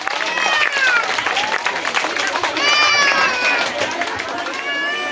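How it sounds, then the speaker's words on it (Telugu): An audience claps warmly for young children at a school annual day and UKG graduation, a dense sustained round of applause mixed with crowd noise and excited kids' voices throughout. "మనందరం కూడా గట్టిగా చప్పట్లు కొడుతూ ఆ చిన్నారులను ఆశీర్వదిద్దాం"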